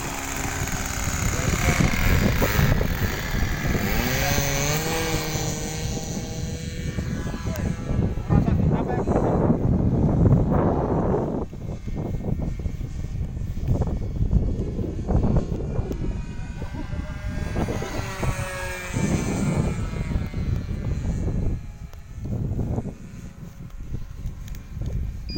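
An RC model airplane engine buzzes and surges with throttle changes over about twenty-five seconds, its whine rising and falling across the sky, with people talking over it and wind rumbling at the microphone.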